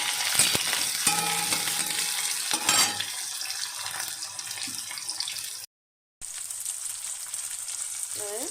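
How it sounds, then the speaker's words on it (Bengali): Onion and green chili frying in a pan, a steady broadband sizzle with occasional stirring scrapes and a brief drop to silence partway through. "পেঁয়াজ কাঁচা লঙ্কাটা একটু ভেজে নেব"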